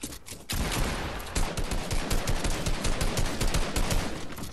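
Sustained automatic gunfire from a full magazine emptied in a video game, a loud, dense burst of rapid shots running almost unbroken after a brief quiet start.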